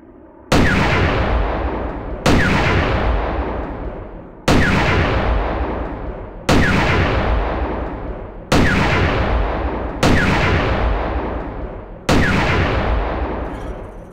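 Seven heavy booming reports from a WWII artillery gun in WWII Online, each blast followed by a long decaying rumble, spaced roughly two seconds apart at close range.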